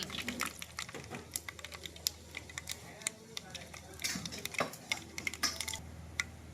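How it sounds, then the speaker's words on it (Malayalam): Mustard seeds and fenugreek pop and crackle in hot oil, a steady scatter of sharp little snaps with no one speaking. "കടുക് പൊട്ടാൻ തുടങ്ങിയിട്ടുണ്ട്."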